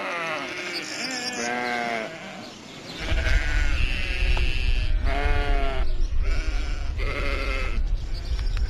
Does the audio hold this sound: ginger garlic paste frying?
no